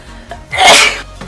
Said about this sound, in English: I've just sneezed off an eyelash.